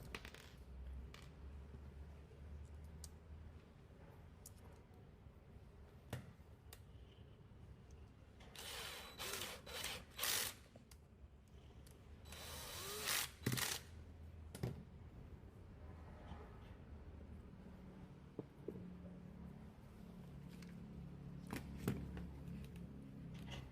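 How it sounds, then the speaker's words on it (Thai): Screws driven in while repairing a noisy-running microwave: quiet, scattered metallic clicks and ratcheting scrapes, with a few louder rattling clusters in the middle, close up and without talk. "ต่อไปก็ให้ยึดสกรูได้เลยครับผม"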